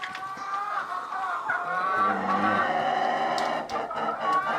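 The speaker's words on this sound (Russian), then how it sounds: "И петух тоже он породистый, это порода Брама." A young Brahma rooster and other farmyard fowl call in honking, goose-like cries, loud and near, running continuously with no talk.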